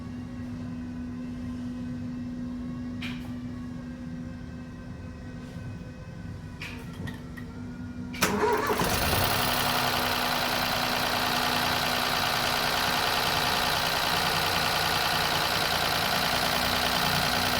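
A Ford Fiesta 1.0 EcoBoost with a low oil pressure fault cranks and starts about halfway through, following a quiet hum and a few clicks, then settles into a loud, steady close-up idle with broadband hiss.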